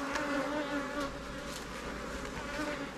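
Early-morning honeybee foragers buzzing around hives in an apiary, a steady, close, continuous drone of many wings with no voices.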